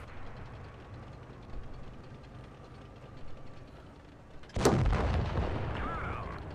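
A single loud, close tank cannon blast erupts in World of Tanks Blitz during a clan wars final, breaking over a low, steady engine rumble and trailing into a rolling, echoing roar.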